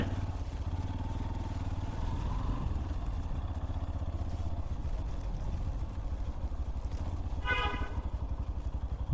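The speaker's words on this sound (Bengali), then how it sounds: "ওই যে একটা বাইক ঢুকতেছে" A motorcycle engine chugs steadily at close range throughout as it enters a parking area, with a brief horn beep near the end.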